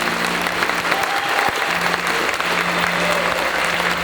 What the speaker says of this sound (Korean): 이제 인사하실 때 큰 박수로 축복해 주시기 바랍니다